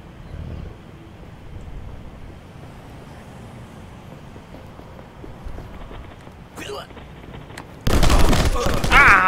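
Rifle fire in the side-scrolling action game Rocketbirds: Hardboiled Chicken, a steady crackle of rapid shots under constant background noise, ending in a loud, dense burst of gunfire.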